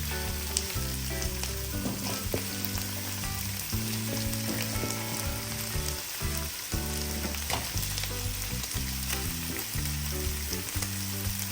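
Pork liver sautéing in a pan with garlic and onions, a steady close sizzle and crackle with occasional stirring scrapes throughout, no voices.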